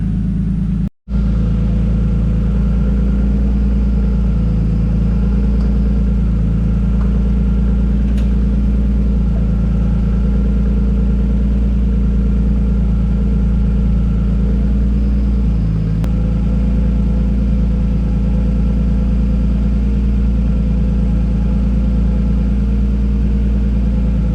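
A repaired Nissan S13 with an RB20DET engine runs at a steady loud idle, a constant deep close rumble with slight wavering, after a sharp brief cutout near the start.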